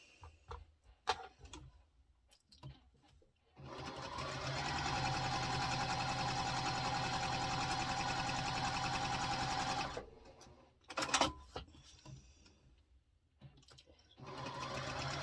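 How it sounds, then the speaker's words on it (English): Sewing machine stitching a quarter-inch seam on half-square-triangle quilt fabric, running steadily and close for about six seconds with brief starts and handling noises before and after. "we're just going to sew 1/4 inch on each side of that line"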